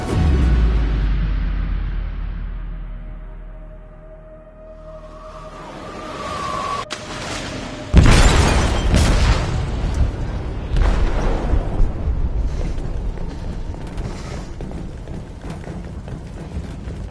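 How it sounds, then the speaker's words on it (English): A ship's hold is blown apart by a detonated explosive in a video game, a deep rumbling boom that swells into a loud broadband blast with crashing debris and a long churning roar, following a quieter low drone. "They detonated an explosive in the hold."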